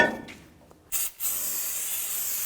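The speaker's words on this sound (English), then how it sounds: "Spray it down with brake parts cleaner and just wipe it down." A short burst of aerosol brake parts cleaner hisses onto a rear brake rotor of a 2015-2020 Cadillac Escalade, pauses a moment, then a longer steady spray follows, close up.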